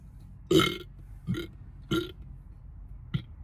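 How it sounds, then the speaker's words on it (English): A man lets out a loud burp followed by several smaller burps at uneven intervals, close and alone over quiet background. "Excuse me about the burp."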